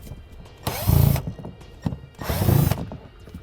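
A power drill backs out two screws hidden behind a trim cover on a 2017 Honda CR-V. There are two short, loud, close whirring bursts separated by a quiet pause, with faint handling noises around them.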